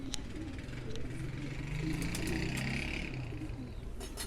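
Pigeons perched on a roof coo in low, repeated throaty calls, close by and fairly soft. Traffic and faint voices murmur in the background.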